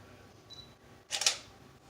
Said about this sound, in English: You can hear my camera